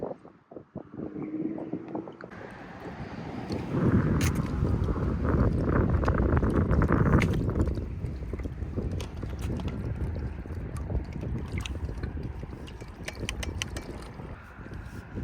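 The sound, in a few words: ProBoat Horizon RC tug boat put in the water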